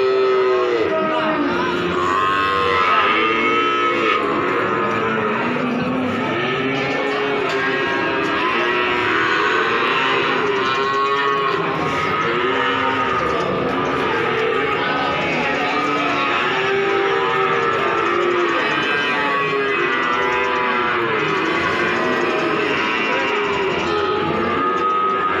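Cattle moo repeatedly amid a crowded, noisy livestock market at Pasar Sapi Pon, Ambarawa, Indonesia, many low bellows overlapping with a constant murmur of people talking in the background.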